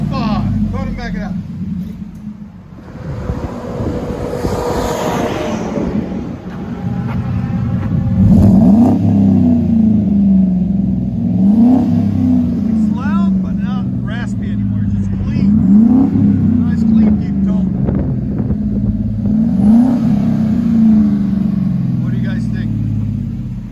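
A Chevy Silverado 5.3L V8 revs repeatedly through an aftermarket exhaust, giving a deep, loud rumble with rising and falling surges, while people talk over it.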